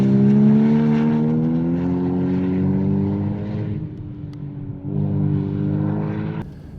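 A 2015 Porsche Cayman 981 flat-six engine drones loudly nearby, its steady harmonic tone rising and easing slightly as the revs shift, with a brief dip before the engine note swells again.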